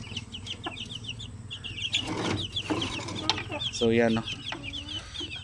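A hen and her one-month-old chicks cluck and peep close by on a Philippine backyard farm, with a soft scatter of chirps and a louder cackle, as someone speaks briefly.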